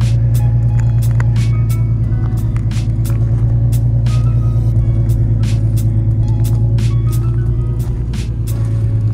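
An Infiniti G35 idling steadily after its first start, a loud continuous low engine hum with faint ticking and clicks, recorded up close with no talking.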